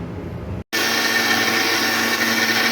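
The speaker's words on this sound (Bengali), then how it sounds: "আগে দইটাকে আমি ভালো করে ফেটিয়ে নেব মিক্সচার গ্রাইন্ডারে" A mixer grinder whisks curd for an aloo paneer curry, starting with a brief pause and then a loud steady motor whir running alone at close range.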